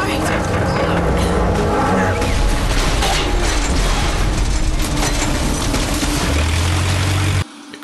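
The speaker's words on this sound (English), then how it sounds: "Explosions already." Explosions aboard a pirate ship in the video game Uncharted, a sustained loud rumbling roar of blasts and crashing debris lasting several seconds before cutting off abruptly, with game dialogue mixed in.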